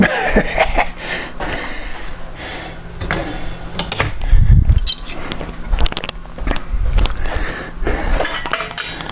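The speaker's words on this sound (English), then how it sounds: "this is where we use those 2 wrenches that we talked about" Two metal wrenches clink and clatter together while tightening the bolt on a folding satellite LNB arm, giving irregular close metallic taps and scrapes, with a cough partway through.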